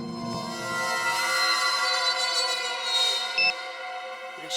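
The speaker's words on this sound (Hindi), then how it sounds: "कहीं धीमी आवाज में तो नहीं बजा अलार्म?" A bedside alarm clock rings with a steady, buzzing electronic tone layered with many harmonics, loud and continuous for several seconds and then cutting off, followed by a brief higher beep.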